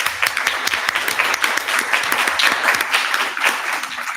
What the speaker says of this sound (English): Let's do a round of applause for Carringle.